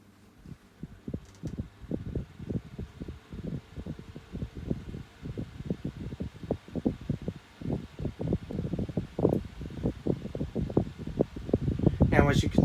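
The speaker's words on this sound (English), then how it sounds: "let's switch on the Micromark 8-inch desk fan," A 2003 Micromark 8-inch desk fan runs on low speed, making a close, steady whir with a soft rhythmic thumping pulse that grows a little louder over time.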